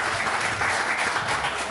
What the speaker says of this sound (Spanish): Vamos, vamos, aplauso, aplauso, aplauso, aplauso, aplauso, aplauso